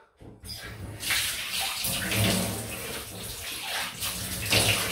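Running tap water rinsing a razor during a shave, a steady close splashing flow that starts after a brief silence and continues throughout with slight surges, no talking over it.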